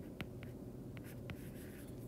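Handwriting on paper during a physics lab on moment of inertia, a few faint short pen strokes against a low room hum.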